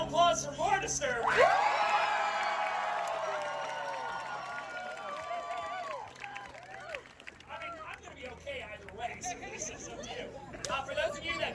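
An audience at a sword swallowing show bursts into loud applause with whoops and shouted cheers, voting for the more disturbing option, then the clapping slowly thins and fades into scattered claps and crowd murmur.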